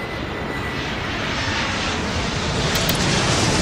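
A jet airliner takes off at an airport in the Airport Madness video game: a steady, loud engine roar with broadband rumble that swells slightly, heard alone with no talk.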